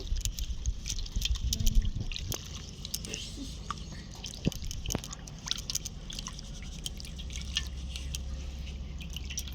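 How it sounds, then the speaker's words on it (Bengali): Water splashes and drips as fresh coriander leaves are rinsed by hand, with a heavier splash early on followed by scattered small drips and trickles close by. "ধনে পাতাটা ভালো করে ধুয়ে নেব"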